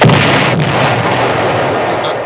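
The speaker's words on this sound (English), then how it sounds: "You got drowned out by the explosion" A loud, sustained blast-like roar fills the moment, a broad rumbling burst that stays heavy and dense throughout, as if an explosion is going off close by and swamping everything else.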